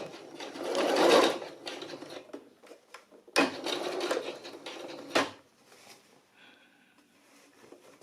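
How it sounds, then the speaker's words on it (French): A domestic sewing machine stitching fabric for a jumpsuit, running in loud close bursts with short pauses between runs, then fading to a faint hum. "Et je passe à la machine en tirant bien encore."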